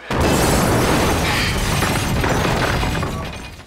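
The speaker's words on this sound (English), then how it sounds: "I think the entire glass side of the mall went up in a huge explosion." A huge bomb blast blows out the entire glass side of a shopping mall on the 1978 Dawn of the Dead set: a loud, sustained roar of explosion and shattering glass that fades away over a few seconds.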